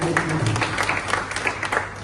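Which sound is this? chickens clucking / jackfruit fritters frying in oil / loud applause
loud applause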